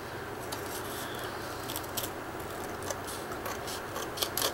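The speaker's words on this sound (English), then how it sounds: "Here's my scissors. I'm going to cut this." Scissors snip in a quick irregular series of short sharp cuts over a soft constant hiss, and no one speaks.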